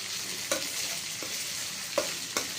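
Coconut curry with raw mango frying in a pan, giving a steady close sizzle broken by three scraping stirs of a spoon, with no talking.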